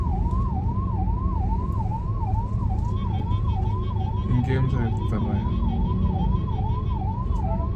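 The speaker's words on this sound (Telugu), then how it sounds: "వెనకాలేమో అంబులెన్స్ ఉంది" An ambulance siren wails in a continuous, rapid up-and-down cycle close behind a car stuck in a traffic jam at a toll road, over steady engine and road noise, with a brief spoken remark partway through.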